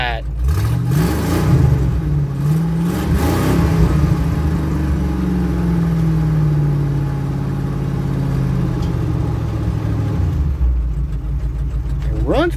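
A 1976 Ford F250 pickup engine runs and revs up and down, loud and close, with rising and falling engine tone throughout, while someone talks over it.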